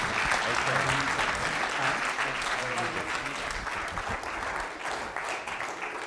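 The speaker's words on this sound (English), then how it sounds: "How about a warm round of applause for Gary Giddins?" Warm, sustained applause fills the room after an introduction at a jazz master class, fading gently toward the end, with some voices mixed in beneath the clapping.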